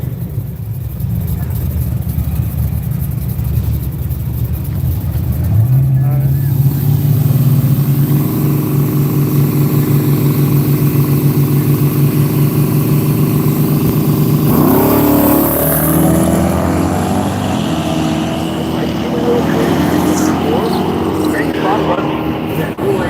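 Drag racing cars at Seattle International Raceway, including a Camaro, accelerating hard down the strip, a loud sustained engine roar that rises in pitch mid-run, then a second car's engine surge, with an announcer talking over it.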